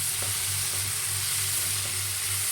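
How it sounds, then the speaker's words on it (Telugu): Cluster beans fry in a pan with crushed garlic and chili powder, making a loud, steady, close sizzle that carries on unbroken throughout with no voices. "ఇలా కాసేపు ఫ్రై చేసుకుందాం"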